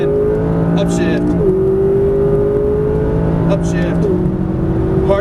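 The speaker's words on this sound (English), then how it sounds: "go straight down the middle and accelerate" A McLaren 570S accelerates hard on a race track, its engine loud and close with rising revs, two quick upshifts dropping the pitch, while an instructor talks over the engine noise.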